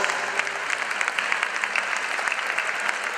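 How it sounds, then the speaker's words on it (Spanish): Sustained audience applause at a National Police TEDAX-NRBQ bomb-disposal exhibition in the Coliseum of A Coruña, a dense steady wash of many hands clapping, fairly loud and even throughout, with no voices over it. "Un aplauso para nuestros dos técnicos."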